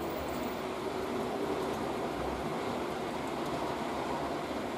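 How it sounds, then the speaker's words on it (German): Steady rumbling rush of a Trix Express model train rolling along a track, continuous and even throughout with no voices. "so langsam drehen die Züge ihre letzte Runde"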